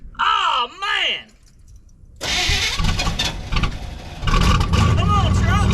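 Lowered 4x4 squarebody truck cranks and its engine catches, then revs and rumbles loudly up close, following a few seconds of voices before the start.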